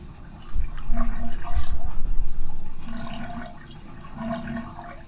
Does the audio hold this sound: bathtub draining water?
yes